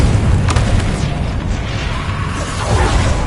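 Spell explosions from Bombarda and Confringo curses in the Hogwarts Legacy video game: a dense, continuous rumble of booming blasts and bursts, loud and close throughout, with a few sharp pops standing out.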